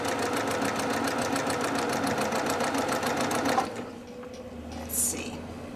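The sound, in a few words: Brother PQ 1500 sewing machine stitching over thick embroidery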